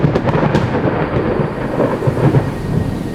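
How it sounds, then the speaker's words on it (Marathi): A loud, rolling rumble of thunder from lightning striking nearby in a forest, filling the whole moment, with heavy rain hissing steadily underneath. "आकाशात जोरात वीज कडाडली जंगलात बाजूलाच कुठेतरी वीज कोसळली असावी"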